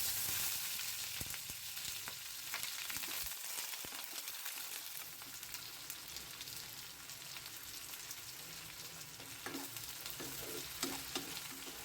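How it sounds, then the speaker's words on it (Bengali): Onions sizzle steadily in hot oil, a loud continuous crackle with occasional stirring scrapes and no voices. "পেঁয়াজটা আমার হালকা গোলাপি ভাজা হয়ে গেছে"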